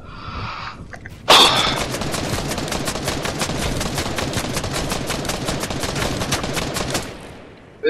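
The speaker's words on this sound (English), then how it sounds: "stop shooting at me" Rapid bursts of automatic gunfire in the Fortnite battle royale video game, a loud, dense run of shots lasting several seconds after a brief lull, with no talk over it.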